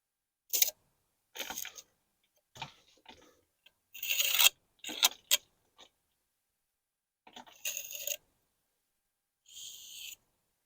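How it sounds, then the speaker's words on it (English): Excess mortar being scraped off damaged old bricks, heard as a series of short, separate rasping strokes with pauses between them, fairly close and with no talking. "gently remove the excess of your mortar"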